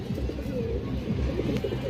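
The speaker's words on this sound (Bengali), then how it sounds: "ওই যে কবুতর আছে মাসাল্লাহ" Pigeons coo in soft, repeated throaty warbles close by, several birds overlapping in a low rolling murmur.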